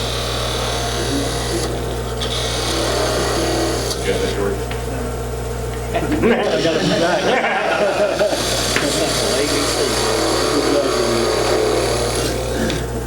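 A wood lathe spinning a Christmas ornament blank while a gouge cuts, a constant low motor hum joined midway by rougher scraping and chattering from the tool, with someone talking throughout.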